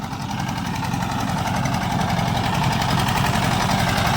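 A Peter engine mounted on a crop sprayer tank runs close by, a steady thumping idle with a fast, even rhythm that holds throughout without talk.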